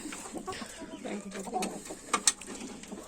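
Ornamental hens and roosters in a coop cluck quietly in the background, with a couple of sharper, louder calls standing out near the end.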